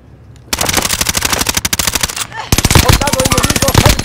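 Rapid automatic gunfire in the video game Call of Duty: Modern Warfare, with loud, close bursts of evenly spaced shots that continue almost without pause.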